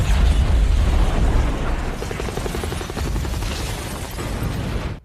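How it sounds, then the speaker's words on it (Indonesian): A huge explosion tears apart the Skynet base in a Terminator film, a loud, dense roaring blast with deep rumble that keeps churning for several seconds. "John langsung meledakkan markas Skynet tersebut hingga tak tersisa"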